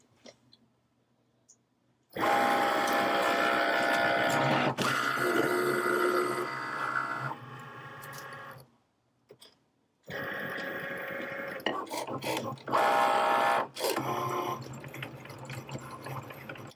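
A Cricut cutting machine runs alone while cutting a buffalo pattern, giving a loud, steady mechanical whir with tonal motor hum and clicks, breaking off briefly midway before resuming.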